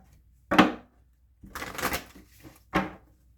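Oracle cards being shuffled in a quick session: three short riffling bursts of papery flutter and tapping, close and fairly quiet, with brief silences between them and no talk.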